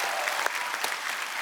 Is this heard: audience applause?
yes